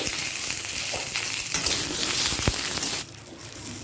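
Pointed gourd, greens, potato, papaya, green banana, drumsticks and soybean chunks fry together in oil over medium-high flame, a steady close sizzle with stirring clatter that drops noticeably quieter near the end.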